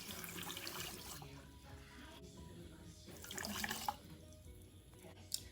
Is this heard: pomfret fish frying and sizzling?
no